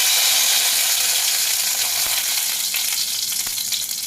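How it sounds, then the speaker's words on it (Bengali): Bay leaf tempering in hot oil for a mushroom curry, a loud steady sizzle and crackle that thins slightly toward the end, with a few faint clicks of a utensil in the pan. "এবার এই তেলের উপরে তেজপাতা ফোড়ন দেব"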